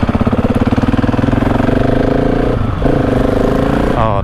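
A Husqvarna 701 Supermoto single-cylinder engine fitted with a Wings exhaust idles loud and close in a steady fast thump, briefly dipping then blipping the throttle near the end.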